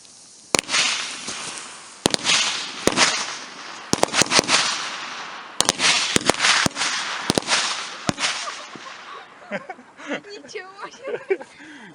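Firecrackers set under an ordinary metal can explode outdoors in a rapid irregular string of sharp cracks and bangs, some in quick clusters, loud and near, with people talking in between.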